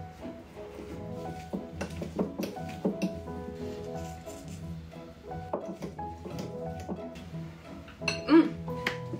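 Metal utensils clink and scrape against a bowl as ingredients are mixed, with irregular bright taps throughout and a voice talking over them.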